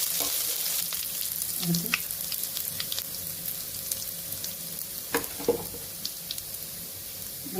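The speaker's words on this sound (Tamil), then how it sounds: "அடுத்து முட்டை செய்யலாங்க. ஆயில் ஊற்றிக்கலாங்க." An egg frying in oil in a pan gives a steady, close sizzle throughout, with brief stirring and scraping clicks and a few louder pops near the end; a single short spoken word comes in at the start.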